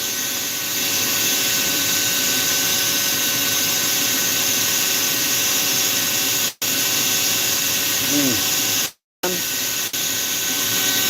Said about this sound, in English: this fine burr seems to work pretty good on this poplar